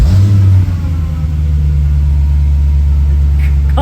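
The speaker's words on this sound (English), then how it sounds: "let's just see if the car starts up without any booster packs" A damaged Audi S4's engine catches and settles into a steady, loud idle rumble close by, with a brief surge at the start and no voices.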